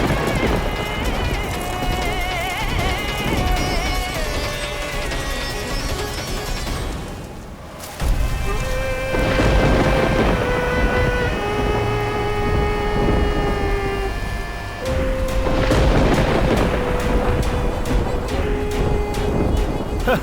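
A loud storm with heavy rumbling thunder and rain surges continuously, mixed with dramatic music and a voice speaking over it.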